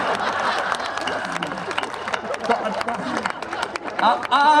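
Audience clapping at a live Hindi comedy show, a fairly loud, dense patter of hands with crowd chatter and a voice speaking over it, swelling again near the end.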